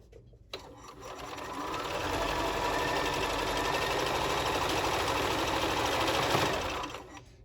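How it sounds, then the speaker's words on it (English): A sewing machine stitches a quarter-inch seam along a quilt block, starting after a soft click and running as a steady, even mechanical whir for several seconds before it slows and stops. "we're just going to sew a 1/4 inch seam down the side of this block."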